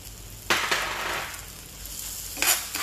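Onion hitting a hot pan with whole garlic cloves, a sudden loud sizzle that settles into steady frying, then a second burst of crackle near the end as the food is stirred.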